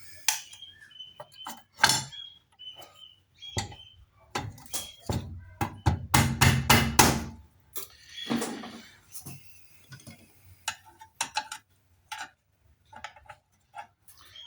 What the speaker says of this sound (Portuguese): dá uma forcinha aqui, né, com marreta de borracha